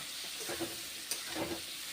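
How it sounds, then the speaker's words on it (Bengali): Oil sizzles steadily in a pan while pointed gourd and eggplant are stirred, with soft scraping and crackling bursts, close and moderately loud, no talking. "ভেজে নিচ্ছি তাই পটল বেগুন ভেজে নিয়ে একটা পাত্রে রেখে দেবো।"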